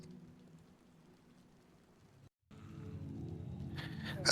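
Rain falling in the video game DayZ, a soft steady patter that drops out briefly and returns denser and louder.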